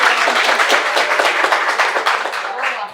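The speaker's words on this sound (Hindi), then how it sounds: "इसलिए ताली हो जाए एक बारी" Students at a NEET exam guidance session break into brisk, loud clapping that continues steadily before thinning out, with a voice emerging near the end.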